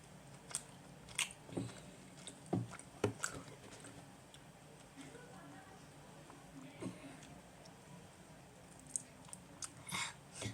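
Soft, close chewing of watermelon-flavoured gummy candy, with scattered wet squishes and bites spread across a quiet room.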